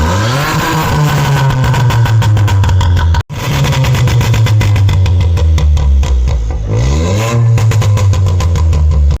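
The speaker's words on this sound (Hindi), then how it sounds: "तो ये लो स्टॉक के अंदर गाड़ी का ये एग्जॉस्ट है।" A specially modified VW Polo rally car roars loudly up close, its exhaust revving hard in repeated surges with a sharp cut around the third second, then rising and falling pitch as the engine climbs and drops through the revs.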